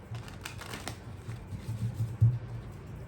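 Tarot cards are shuffled in a soft, close, papery flutter, quiet and uneven, with a low hum beneath it.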